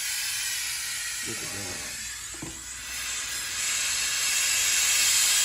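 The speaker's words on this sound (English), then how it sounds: "after the steam has broken it down, because it's super hot, super heated" A Vevor 8-in-1 steam mop hisses with a loud, continuous broadband rush of superheated steam that swells toward the end, while a person briefly speaks beneath it.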